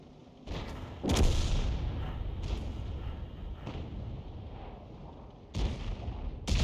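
A tank cannon shot lands on an E 100 heavy tank in World of Tanks: heavy booming blasts and rumbling impacts recur every couple of seconds over a continuous low battlefield roar, loud and without talk.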